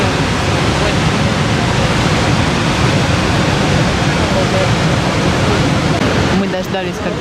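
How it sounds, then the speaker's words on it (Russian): Horseshoe Falls at Niagara on the Canadian side, tons of water crashing down in a loud, steady broadband roar that fills the whole stretch, with a brief voice or noise near the end. "Водопад Подкова. Просто многотонны воды сваливаются вниз."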